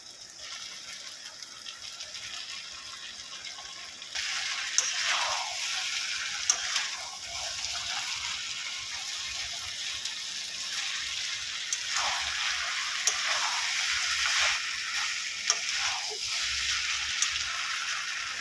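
Washed and drained chow mein noodles are stir-fried in a hot pan for a Bengali restaurant-style chowmein: a continuous sizzle runs throughout, with intermittent scraping, tossing and light metallic clinks.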